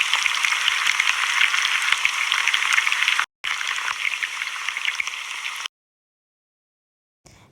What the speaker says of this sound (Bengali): একে একে সবগুলো বেগুন গরম তেলে দিয়ে খুব ভালো করে ভেজে নেব